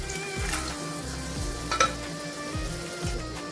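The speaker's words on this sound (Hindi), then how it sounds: "ये गोश्त ऐड कर देंगे।" Beef pieces frying in a pan for aloo gosht, a continuous close sizzle with stirring scrapes and occasional soft pops, no voices.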